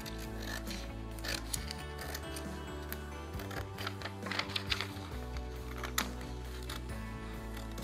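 Scissors snip through fabric along a blouse neckline, a string of quiet, close cutting clicks and rustles over a steady low hum in the room.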